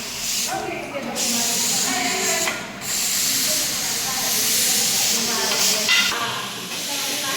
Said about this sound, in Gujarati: હવે વઘારી આપણે પાઉંભાજી.